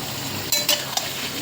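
Yogurt-marinated creamy chicken sautéing in a pan, a brief steady sizzle with two or three quick scraping stirs, close.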